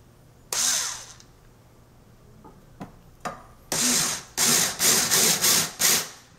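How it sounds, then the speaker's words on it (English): A power drill drives screws into an IKEA Micke drawer unit in short whirring bursts, first one longer run, then sporadic clicks and a quick series of closely spaced bursts, loud and close. "Now I'm ready to put some screws in."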